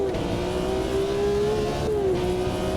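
A race car engine holds a steady drone at the pit limiter in the racing game Automobilista 2, with a constant buzzing tone that dips briefly near the end.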